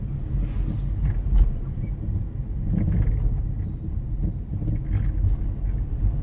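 Car moving slowly through narrow lanes during a driving lesson, a steady low engine rumble with wind buffeting and a few light knocks, continuous and close, with no talking.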